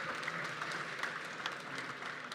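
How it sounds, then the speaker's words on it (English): An audience at a startup awards event applauds the winner Gifted Mum from Cameroon with steady, dense clapping that holds evenly from start to finish. "a big round of applause for Gifted Mum from Cameroon"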